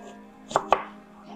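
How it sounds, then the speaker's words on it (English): A knife halves a red sweet onion on a cutting board, giving two sharp, close chopping strikes in quick succession against a quiet background. "halving my red sweet onion, just cutting here"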